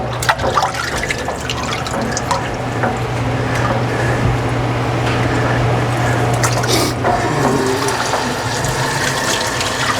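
Water squirts and splashes steadily while the parts of a Taylor C712 soft serve machine are rinsed, a continuous close rush of spray over a low mechanical hum, with no talking.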